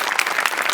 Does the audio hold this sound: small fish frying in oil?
no